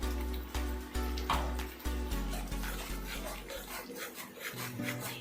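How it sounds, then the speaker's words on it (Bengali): Spice paste mixed with beaten sour yogurt is sautéed in a pan, with repeated close scraping and rubbing strokes of a spoon over a steady low hum and a soft, faint sizzle. "এটা দিয়েও আমি বেশ ভালো করে এবার কষিয়ে নেব।"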